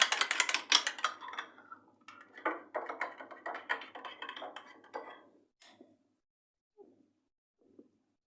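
Garlic yogurt whisked in a bowl with a utensil, a fast run of light clinking and scraping taps that slows and thins out into a few isolated knocks before falling silent.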